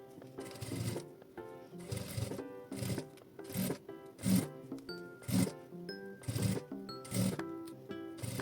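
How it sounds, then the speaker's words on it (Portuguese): Sewing machine stitching bias binding along the edge of a fabric case, a series of short rhythmic bursts of mechanical whirring at close range. "Eu rebato e costuro do outro lado."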